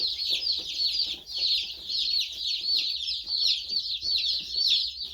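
Many baby chicks peep continuously, a dense chorus of high, shrill cheeps close by with no pauses.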